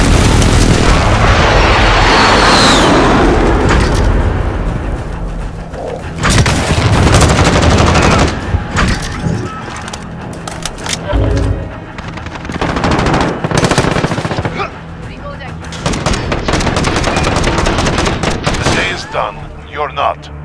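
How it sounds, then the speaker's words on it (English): In Call of Duty Modern Warfare, a sentry gun rattles out sustained automatic bursts while a precision airstrike pounds with heavy booms, a loud, dense barrage with game voices mixed in. "Enemy precision airstrike. Enemy sentry gun active. We're getting hammered."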